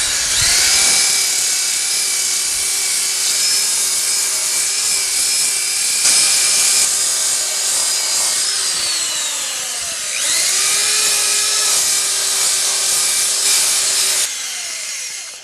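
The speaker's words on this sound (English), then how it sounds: "I'm going to take my power sander over those areas before I rotate the bowl to sand" Power sander running steadily on a wooden bowl, a loud continuous whine with harmonic tones that shift in pitch as the disc moves over the wood and its load changes, briefly dropping near the end.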